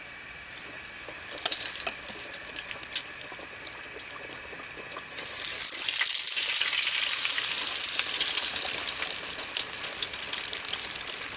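Fish fillets for po' boys drop into a deep fryer, and the oil bursts into a loud, steady hiss that stays strong throughout, close by.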